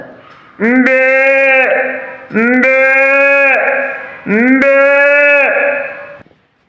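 A human voice imitates a Vechur cow lowing: three long, drawn-out moos, each steady and strong, separated by brief pauses.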